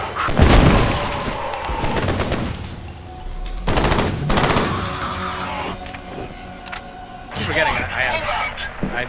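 Gunfire from a gun in F.E.A.R. Extraction Point, loud broadband bursts near the start, around four seconds and again near seven and a half, set over a busy game soundscape with voices mixed in.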